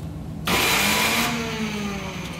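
A Nissan TB45 engine with severe low power cranks over, a loud mechanical churn that bursts in abruptly after a quieter moment and holds steady close by, with no voices.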